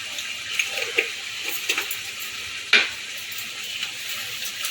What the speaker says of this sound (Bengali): এটা একটু ভালো করে কষিয়ে নেব মাংসটাকে